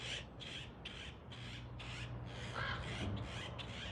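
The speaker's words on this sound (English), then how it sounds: "They're having a crow fight over there." Several crows cawing and squabbling in a fight some distance away, a rapid series of harsh, evenly spaced caws over a low outdoor hum, with no talk.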